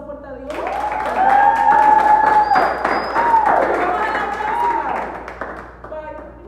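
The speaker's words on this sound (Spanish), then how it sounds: "Así que vamos a dar un aplauso fuerte a Dios" Audience applause at a youth conference with a band, a crowd clapping and cheering loudly while voices call out over it, then tapering off.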